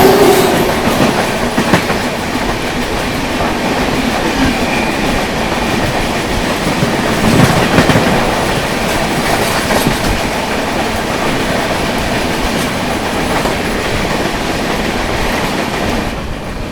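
The Howrah Mumbai Mail rushes past on the tracks in India, a loud, continuous roar of rolling wagons with rapid clickety-clack wheel beats and a brief squeal of metal, with no talk.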